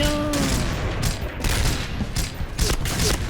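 A burst of gunfire in a shooting video game, rapid cracking shots stacked close together across a few seconds, loud and near, with a voice faintly underneath.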